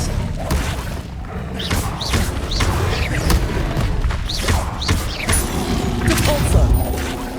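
Expelliarmus disarming spell cast during combat in the Hogwarts Legacy video game, with a steady run of booming magical blasts, thuds and clanking impacts in close succession over a dense, continuous background.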